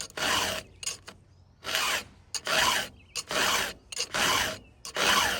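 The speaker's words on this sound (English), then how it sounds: "I'm just doing a cleanup filing here." A hand file rasps across the cutters of a chainsaw chain during a cleanup sharpening, about seven or eight short, loud, gritty strokes in an uneven rhythm with brief pauses, close and without any talk.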